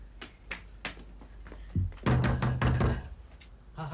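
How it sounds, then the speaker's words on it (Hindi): Knocking on a room door in a hotel or lodging corridor, a few scattered light taps early on, then a louder burst of firm knocks near the middle over low background hum. "हाँ हाँ खटखटाओ।"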